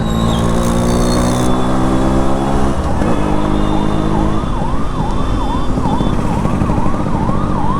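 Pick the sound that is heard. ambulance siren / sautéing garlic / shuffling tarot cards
ambulance siren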